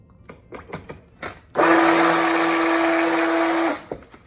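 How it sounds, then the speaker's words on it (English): A stick blender whirs steadily through soap batter for about two seconds with a loud, even motorized hum, preceded by a few soft clicks and knocks. "Let's blend it up just a little bit more so it thickens up on the bottom."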